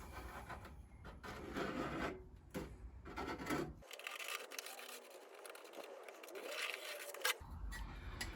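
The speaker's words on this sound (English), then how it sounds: "I'll go in behind with my pen and just scribe the outline of that on the back of this panel" A pen scribes an outline onto the back of a steel sheet-metal panel during a wheel arch repair, making soft rubbing, rasping strokes in close, uneven bursts.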